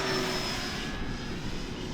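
An E-flite Turbo Timber Evolution RC airplane flies past during a takeoff on grass with half flaps, giving a steady, loud, broad motor and propeller roar with a high whine that stays constant throughout.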